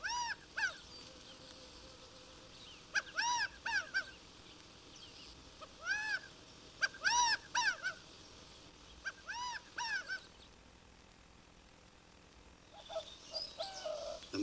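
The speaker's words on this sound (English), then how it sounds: "The California quail is the familiar game bird in the more humid areas of the Pacific coast." A California quail calls repeatedly in humid Pacific coast country, giving clear, rising-and-falling notes in short clusters separated by pauses, fairly close over a quiet background.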